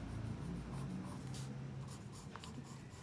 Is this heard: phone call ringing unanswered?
no